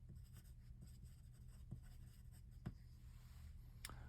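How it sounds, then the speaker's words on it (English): A pen scratches across paper as a short handwritten note is jotted down, with faint, close, continuous scribbling and a few soft taps. "So I'll just write a note, rounded corners"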